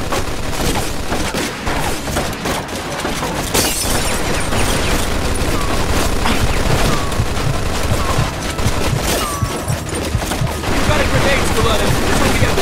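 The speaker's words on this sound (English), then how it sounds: "Looks like we found the machine gun!" Dense, loud automatic gunfire rattles through a Mafia 2 shootout, continuous bursts layered with booms and impacts, with shouted voices mixed in over the chaos.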